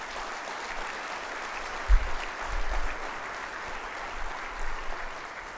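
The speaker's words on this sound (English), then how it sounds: "a round of applause for the Gogo team" An audience at a business aviation trade show product introduction applauds the Gogo team, a steady, fairly distant patter of many hands clapping that continues throughout.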